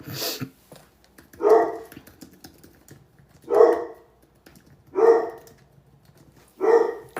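A dog barks four times at a slow, even pace, each bark loud and close, with quiet clicking in between.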